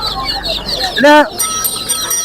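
Chickens at a crowded live poultry market in Mirpur, Dhaka, clucking and squawking repeatedly close by, with one sharp, loud rising call in the middle and talking going on around them.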